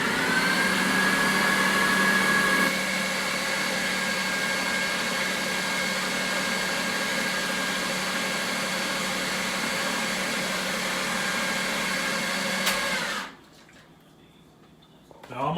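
Electric hand mixer whirring steadily as it blends chocolate silk pie filling with cream cheese and unsweetened cocoa powder, a loud continuous motor hum that drops slightly in pitch partway through, then cuts off abruptly near the end.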